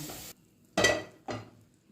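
Sambar is poured into a hot mustard-seed and oil tempering. A brief sizzle is cut off, then two loud bursts of hissing splatter fade quickly, close up.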